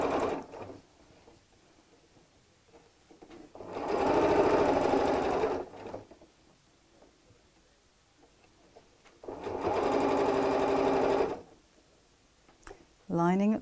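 A domestic sewing machine stitching fabric for a storage cube, two sustained runs of rapid motor whir and needle clatter, each about two seconds long, separated by quiet pauses, with a brief restart at the end; close and clear.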